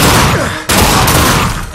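Loud, dense gunfire in the video game The Darkness II, a continuous close barrage with a brief break partway through before the shooting resumes.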